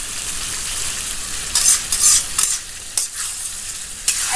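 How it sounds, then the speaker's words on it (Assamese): Local chicken meat sizzles loudly in hot oil, a steady frying hiss punctuated by several sharp scraping bursts of a spoon stirring against the pan, close and without talk. "আকৌ এবাৰ লৰাই দিছোঁ, আৰু এয়া লাহে লাহে মাংসখিনি বা তেল ওলাব ধৰিছে।"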